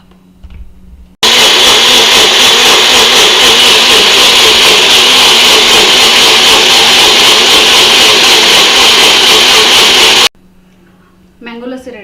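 Mixer grinder jar whirring at full speed for about nine seconds as it blends mango with curd into lassi, a loud steady buzzing roar that starts and stops abruptly, with brief talk before and after.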